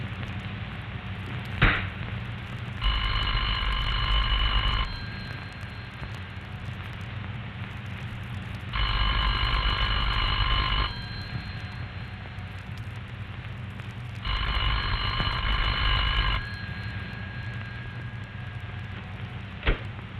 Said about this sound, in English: The party at this number will hear a clear, evenly spaced ring